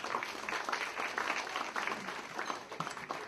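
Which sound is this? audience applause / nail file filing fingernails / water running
audience applause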